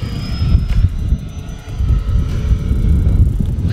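An E-Flite Turbo Timber Evolution 1.5m electric RC plane flies overhead with a steady whine over low outdoor rumble, swelling and easing slightly as it passes, fairly loud and continuous.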